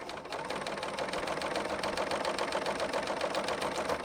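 A sewing machine runs steadily while stitching fabric with a wide stitch, giving a continuous whirring hum with fast, regular mechanical ticking, close and moderately loud.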